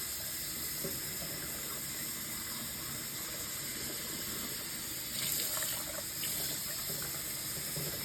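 A steady stream of beef broth trickles through a cloth and splashes continuously into a pot, with faint clinks partway through.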